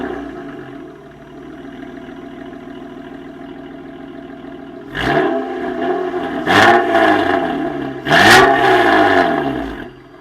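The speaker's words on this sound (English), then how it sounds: "the less restrictive exhaust also gives it that little extra boost that makes it completely different sounding from the base model TL" An Acura TL Type-S with a modified, less restrictive exhaust idles with a steady burble, then three sharp revs blip up and fall away one after another, loud and close.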